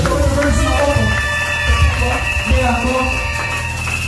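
A church congregation cheers and acclaims in a loud, sustained mass of voices, with shouts and sung tones rising over a steady low rumble throughout.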